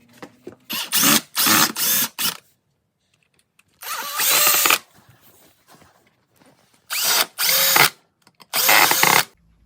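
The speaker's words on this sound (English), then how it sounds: "mount this to the runner on the press using pocket screws" Power drill driving pocket screws into a wooden runner on an 8 x 12 Chandler & Price letterpress, in four or five loud bursts of whirring with brief pauses and a longer gap between groups, close by, with no talk.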